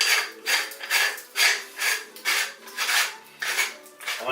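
A hand grinder is twisted through a finer second grind, giving a loud, close, rhythmic rasping crunch in steady repeated strokes of about two per second.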